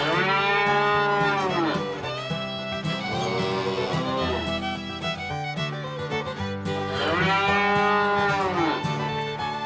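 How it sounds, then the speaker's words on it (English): Cattle mooing in long, loud, drawn-out calls, several in a row with short gaps, close and alone. "We have some cattle."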